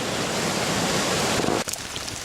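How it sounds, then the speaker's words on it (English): Swollen creek after rain, rushing loud and steady as broadband white-noise roar that drops abruptly partway through to a quieter, thinner flow. "I'm along the creek here,"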